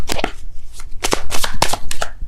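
Tarot cards shuffled and drawn by hand, a run of close, crisp riffling and slapping bursts in an irregular rhythm, loud and without talk.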